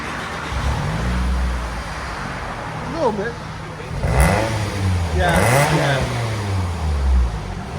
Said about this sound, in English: there's the BORLA Pro XS right there that we just installed